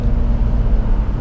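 A Jaguar F-Type sports car engine on the Llanberis Pass in North Wales, giving a brief, loud, steady low rumble up close.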